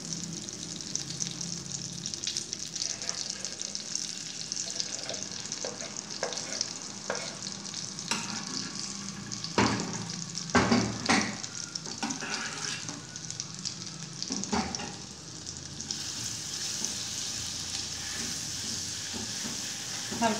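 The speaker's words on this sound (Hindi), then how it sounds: "हल्का सा इसको फ्राई करें," Chopped garlic fries gently on low heat in a pan, giving a soft continuous sizzle under scattered spoon scrapes and knocks, with a cluster of stirring in the middle.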